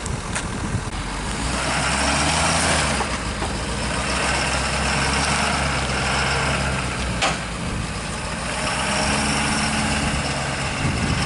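A Volvo heavy-duty truck towing a fifth-wheel RV strains while stuck in mud, its deep diesel engine droning steadily and loud, with a low rumble that swells and eases throughout.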